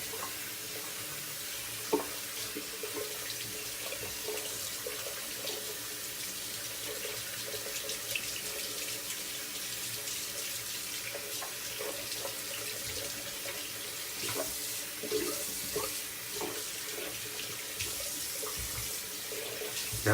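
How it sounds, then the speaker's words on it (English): Tap water runs steadily as a shaving soap puck is rinsed in a sink, a continuous wash with small splashes and knocks scattered throughout, no voices. "Let me rinse off the puck."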